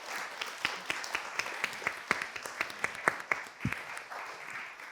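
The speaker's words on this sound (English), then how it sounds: "Please join me in a round of applause for our panelists." Sparse applause from a small audience at an art panel discussion on collections and succession, individual claps distinct and fairly close, spaced unevenly over a quiet room.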